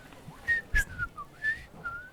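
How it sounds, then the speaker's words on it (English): A person whistles a short, meandering tune of several sliding notes while walking, fairly close and alone with no talk. "Just whistling as I walk."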